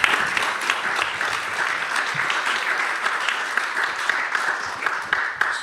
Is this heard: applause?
yes